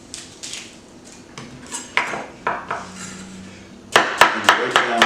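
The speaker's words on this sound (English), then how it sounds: "For a sliced onion, it is simply cutting off the stem and the tip, cutting right down the middle" Chef's knife slicing through an onion on a cutting board, a series of sharp wooden knocks, slow at first and then a quick run of rhythmic chops, close and crisp.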